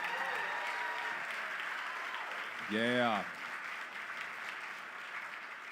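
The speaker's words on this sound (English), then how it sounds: "can I get a round of applause for our next 5 researchers" An audience at a live draft event claps in a broad, moderately loud wash throughout, with a voice calling out briefly in the middle.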